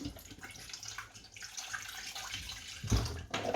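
Water pours steadily into a cooking pot of plantains set to boil, a continuous close splashing rush with a small knock near the end, and no talking.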